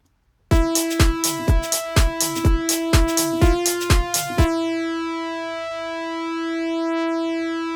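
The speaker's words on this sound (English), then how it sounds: "I'm going to copy and paste this into this retro synth, which just has a default setting." A bright, basic synthesizer plays a quick run of plucky notes, then holds one sustained buzzy tone that rings on alone.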